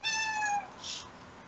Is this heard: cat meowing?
yes